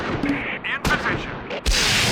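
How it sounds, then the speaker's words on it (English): Bursts of medium machine gun fire from a church steeple position in the World War II strategy game Close Combat 4, set at Clerf during the Battle of the Bulge, loud and continuous with overlapping gunfire and explosions. "The medium machine gun team in the church steeple now target Panzer Grenadier with flanking fire as they assault."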